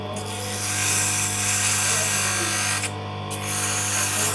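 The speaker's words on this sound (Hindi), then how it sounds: "तो इसको साफ़ करने के लिए हमने ये रैगमार लिया है, तो इसको बराबर कर लेंगे पूरा।" Emery paper rubbing the rusted motor shaft of a jet pump for a well, a steady close scraping that runs continuously with small dips over a constant low motor-like hum.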